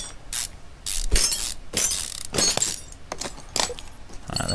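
Bolts being undone on an engine's manifold in the car repair game Car Mechanic Simulator 2015, heard as a series of close, sharp ratcheting and clanking mechanical bursts separated by short pauses, with no talking.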